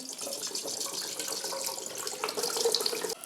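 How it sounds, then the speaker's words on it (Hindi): Water runs into a cooking pot to boil rice for zarda, a steady close splashing gush that continues throughout and cuts off abruptly at the end. "उसके लिए हम एक पतीले में पानी"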